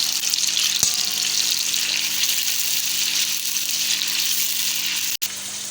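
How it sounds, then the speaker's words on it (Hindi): Small boneless chicken pieces frying in a pan for green chicken karahi, a loud continuous hiss and crackle close up, with one brief clank early on and a short break near the end. "इसको अच्छी तरह हम कर लेंगे फ्राई"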